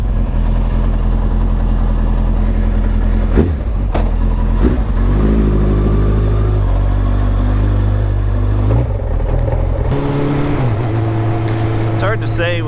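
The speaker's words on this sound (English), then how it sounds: "Certainly sounds like it's idling better." A Suzuki Bandit motorcycle with a newly installed jet kit idles loudly and close, its steady engine note broken by several short throttle blips that rise and fall.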